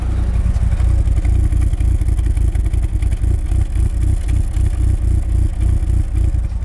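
A Mitsubishi Eclipse DSM engine with stock exhaust revs steadily with a deep, rumbling exhaust drone, continuous and close, with some rattling clatter underneath.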